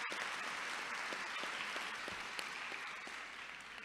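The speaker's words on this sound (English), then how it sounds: "And let's give a big round of applause to Kayla Staley." Applause at a summer graduation ceremony after a vocal performance, a sustained round of clapping from a large crowd that softens slightly toward the end, with no speech over it.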